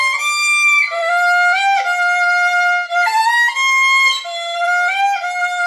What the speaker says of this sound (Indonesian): Contoh, ini suara violin nih.